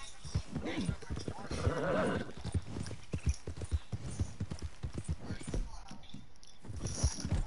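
Hooves of a horse in the video game Red Dead Redemption 2 clip-clop in a steady galloping rhythm, close and clear, while a person talks over them throughout.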